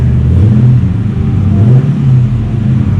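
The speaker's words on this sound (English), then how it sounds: "Wait till you hear it rev up, man." An upgraded 5.7L V8 rumbles loudly and close by, with deep uneven revving surges and brief dips across the few seconds, no voices over it.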